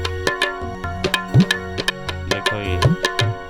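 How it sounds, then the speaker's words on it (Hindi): Looping tabla pattern with ringing pitched bass strokes and crisp treble taps, played in a steady, lively rhythm with no talking. "ये तबले की आवाज है"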